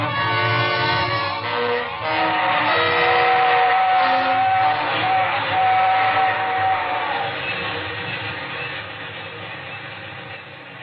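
A train passing as a radio drama sound effect: a steady rolling rumble and clatter with a drawn-out whistle tone in the middle, loud at first and slowly fading as it moves away.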